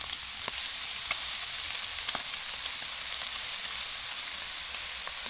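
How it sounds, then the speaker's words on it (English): Steady hiss and sizzle of chanterelle mushrooms frying in bacon grease on a Blackstone griddle, continuous and close, with occasional faint pops and ticks. "We're gonna put them in here on the black stone."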